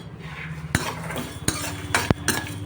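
Sesame seeds roasting in a pan for a pickle recipe, stirred with a metal spoon that scrapes and clinks sharply against the pan several times over a soft steady sizzle.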